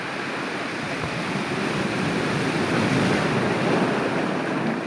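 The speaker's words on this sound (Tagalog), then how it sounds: "Ipin mo yung dagat." Sea waves crashing against shoreline rocks, a loud continuous roar of surf with wind buffeting the microphone, with no voices.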